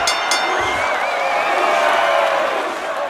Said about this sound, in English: With the crowd chanting that Gaelic word.